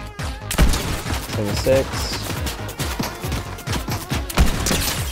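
Gunfire from a gun in the battle royale game Fortnite, rapid bursts of loud shots with sharp repeated cracks across the span, heard under continuous excited talking.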